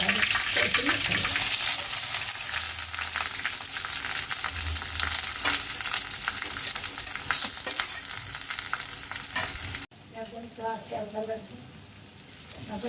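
Curry leaves, onions, green chillies and small dried fish fry in hot oil, a steady loud sizzle with stirring scrapes that drops away to quieter crackling near the end.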